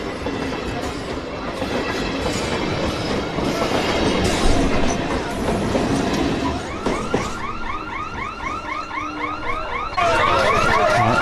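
A crowded passenger train runs through a large Indian city with its doors open, giving a loud rolling rumble with rhythmic clickety-clack and repeated squealing, wavering metallic tones from the wheels growing stronger toward the end.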